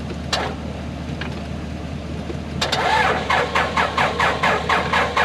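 A big backhoe engine is cranked to start after its battery charged, with a couple of brief clicks and then a run of loud, rhythmic starter cranking pulses, close by, that never catches.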